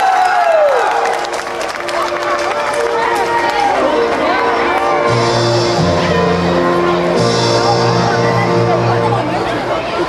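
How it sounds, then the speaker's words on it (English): Applause and cheering from a crowd at a 2006 Pokémon tournament in New York City as players start their match, dense clapping and cheers mixed with hubbub and loud arena music or tones throughout. "Let's have a round of applause as they begin"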